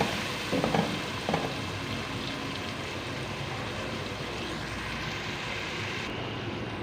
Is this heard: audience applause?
no